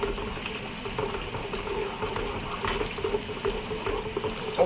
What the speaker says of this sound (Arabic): ننزل عليه الماي